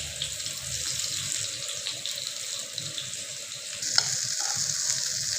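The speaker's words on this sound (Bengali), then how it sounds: "বেগুনটাকে আমি ফ্রাই করার জন্য তেলে দিয়ে দিচ্ছি একটা একটা করে বেগুন আমি এটাকে সাজিয়ে দিচ্ছি" Brinjal slices fry in oil, cooked alongside rohu fish, making a soft, continuous sizzling hiss with gentle crackle and a single sharp clink near the end.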